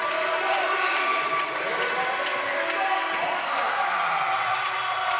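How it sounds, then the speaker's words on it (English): A crowd at a university men's volleyball final in a sports hall keeps up a steady, loud wash of applause and cheering as a player walks onto the court. No single claps stand out. "The crowd welcome him onto the court."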